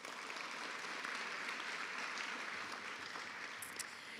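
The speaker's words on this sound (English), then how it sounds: "So a round of applause for all of them." Applause for graduates at a college graduation ceremony in a hall, heard as a continuous wash of many hands clapping, distant and fairly quiet, steady throughout with no voices on top.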